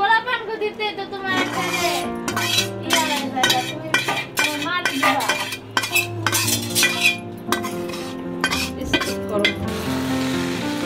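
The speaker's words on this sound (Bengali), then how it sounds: "এবার চালটা মিশিয়ে নিব" Rice and meat stirred in a pot for chickpea biryani, with a metal spoon repeatedly scraping and clinking against the pot over light frying, under talk and background music.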